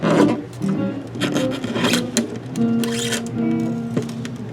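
Nylon strings are cut off a 1986 Made-in-Japan Ibanez GA150S classical guitar, with close rasping and rubbing through the strings and a few brief snips, while guitar music plays in the background.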